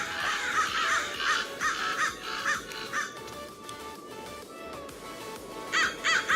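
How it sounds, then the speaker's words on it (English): Crows caw repeatedly outdoors, harsh calls arriving in clustered bursts over a constant background noise, fairly loud and near, with a fresh burst of cawing at the end. "Shut up, crows."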